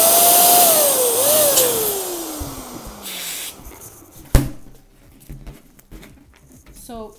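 A large party balloon for a garland is inflated, with a loud steady rush of air that gives way to squeaky rubbery stretching, one sharp snap and scattered handling noises, close up.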